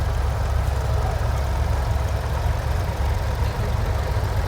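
A Ford 3600 tractor engine drives past in a small-town parade, its low diesel rumble steady and fairly close, with a continuous dense drone throughout and no voices.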